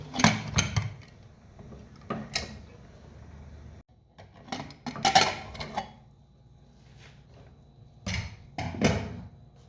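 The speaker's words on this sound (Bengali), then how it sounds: "এখন আমি ঢাকা দিয়ে ঢেকে দেব" A lid set over a cooking pot of chana dal with goat head, giving several close clanks and scrapes of metal in short irregular bursts with quiet gaps between.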